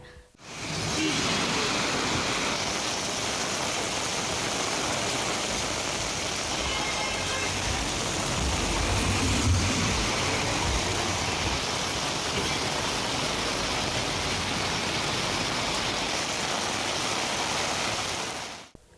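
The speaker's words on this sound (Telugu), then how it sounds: "విజయవాడలో ఈదురు గాలులతో వర్షం కురిసింది" Heavy rain pours in a dense, continuous roar during a gusty storm in Vijayawada, Andhra Pradesh, with wind rushing through it, steady and loud throughout.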